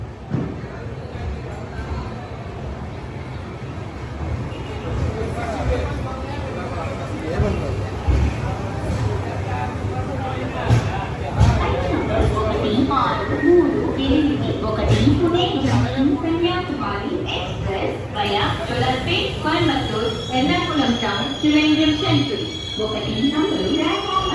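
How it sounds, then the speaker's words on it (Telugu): At platform number 1 of Tirupati railway station, a train rumbles with a low steady drone amid crowd babble and nearby voices that build louder toward the end. "Welcome to Tirupati. Platform number 1కి వచ్చాం."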